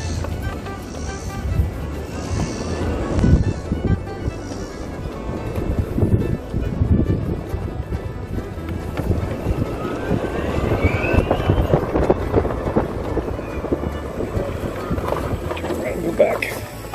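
Old rusty electric golf cart on a test ride, a steady low rumble and rattle of driving with wind noise throughout and a voice talking over it.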